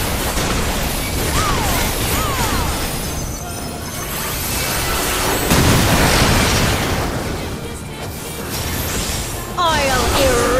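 Dense, chaotic Final Fantasy XIV raid battle noise with booming cannon blasts, crashes and bursts layered over game effects and shouting voices.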